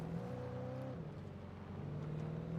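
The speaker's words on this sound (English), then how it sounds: "I'm switching vehicles. This car looks better." A car engine hums steadily in the video game Alan Wake, a faint, continuous low drone whose pitch shifts slightly partway through.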